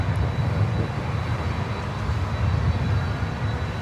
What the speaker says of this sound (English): Avianca cargo 330. Factory freighter coming over here.